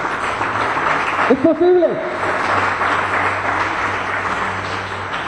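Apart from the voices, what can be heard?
congregation applause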